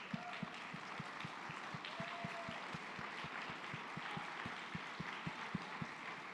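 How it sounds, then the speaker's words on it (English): Applause from the audience greets the standing staff at Rebuilding Together Tampa Bay's 25th anniversary celebration, heard as a quiet, distant patter of claps with a few sharper, more regular hand claps standing out. "the people that work for this organization deserve a round of applause"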